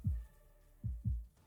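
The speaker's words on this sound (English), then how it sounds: "My heartbeat is all I could hear" Muffled, deep heartbeat thuds from the game Love and Deepspace: one beat, a pause, then a quick double thump, soft and low under a faint steady hum with no voices.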